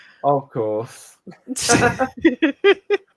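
A single sharp sneeze bursts out midway through a stretch of close conversation, with people talking before and after it.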